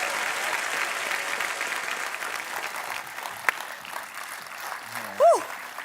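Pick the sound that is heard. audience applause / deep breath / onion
audience applause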